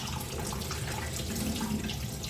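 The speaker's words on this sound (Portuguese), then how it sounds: "Essas eu molho aqui porque eu deixo cair bastante água" Plenty of water is poured onto potted plants in mixed pots, a steady splashing, trickling stream running continuously and close by, with no talking.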